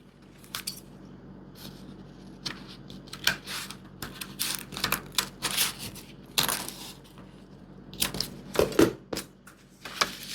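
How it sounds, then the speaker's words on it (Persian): Scissors trim excess paper from the neckline of a sewing pattern, producing a series of sharp, crisp snips and paper crunches at an irregular pace, close and clear, with no voices over them. "خب حالا حلقه گردن رو اضافاتش رو قیچی میکنم"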